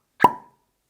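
A cork stopper is pulled from a bottle of Glen Garioch 12 Highland single malt whisky, giving one short, hollow pop that fades quickly into silence.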